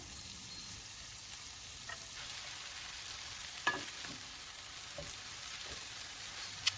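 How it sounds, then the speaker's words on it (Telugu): Spinach frying in a pan with garlic makes a faint, even sizzle throughout, broken by a few soft clicks of stirring and no voices. "అది ఫ్రై అయ్యాక పాలకూర వేసుకోవాలి అది కొంచెం ఫ్రై అయ్యాక"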